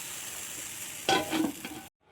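Seasoning is stirred into Kerala-style kadala curry after the stove is turned off. A low hiss gives way to a few loud, close scrapes of a spoon in the pot, and then the sound cuts to silence.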